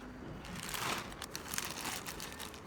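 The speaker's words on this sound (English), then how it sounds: "Transfer the peeled peanuts into a zip bag." Plastic zip bag crinkles and rustles as peeled peanuts are tipped in, a soft continuous crackle with small clicks and rattles close by, no talking.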